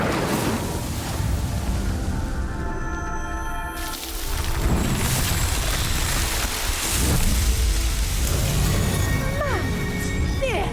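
In the Hogwarts Legacy video game, an Incendio spell sets a pyre ablaze: a loud, dense roar of flames with crackling and rumbling that swells partway through, ending in a few higher whooshing tones.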